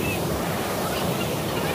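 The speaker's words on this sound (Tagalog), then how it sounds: "Sobrang lakas ng alon." Strong sea waves surging and crashing along the shore at Isla Jardin Del Mar in Glan, Sarangani, a dense continuous roar mixed with wind buffeting the microphone, loud and close.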